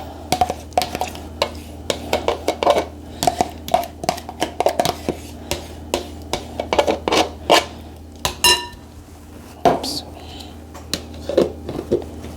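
Daisy low-fat cottage cheese goes into a bowl for a meat lasagna, with repeated sharp clinks and scrapes of a utensil against the dish, close and fairly loud, in an irregular rhythm.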